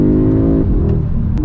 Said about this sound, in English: 5-cylinder pumped noise S3 is pretty good fun